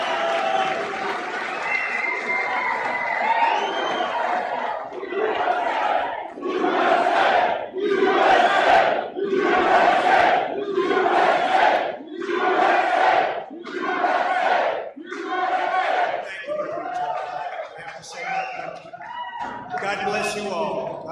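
A crowd of supporters at a political rally cheers and chants in loud, rhythmic bursts about once a second, with broad roaring applause in between and music faintly underneath.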